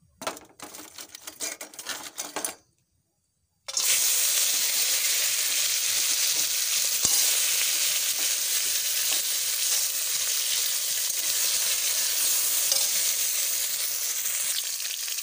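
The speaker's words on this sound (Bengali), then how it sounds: "কড়াটা গরম হয়ে গেছে, এবারে কাঁকড়াটা আমি দিয়ে দেবো" Crab hits hot oil in a heated wok, and after a crackly start and a moment of near silence a loud, dense, steady sizzle and hiss takes over and carries on evenly to the end.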